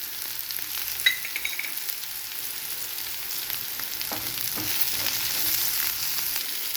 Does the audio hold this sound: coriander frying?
yes